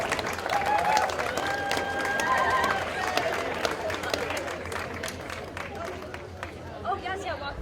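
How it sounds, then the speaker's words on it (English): Audience applause at a morning sing ceremony, a crowd clapping steadily and then thinning out, with chatter and voices mixed in throughout. "Round of applause."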